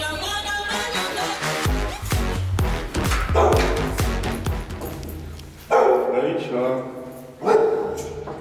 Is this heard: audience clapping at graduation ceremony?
no